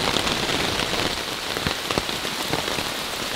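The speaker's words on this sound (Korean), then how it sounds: "봉제선에서 빗방울이 계속 떨어집니다" Heavy rain patters steadily on a taut, lightweight camping tarp close by, with heavier drops plunking down at irregular moments as water drips through a seam; no voices.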